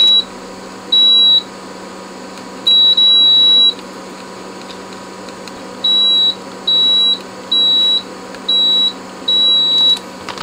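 Repeated beeps from a multimeter's continuity tester while checking switches in a repaired HH digital effects unit, eight short-to-medium tones at irregular intervals over a steady hum.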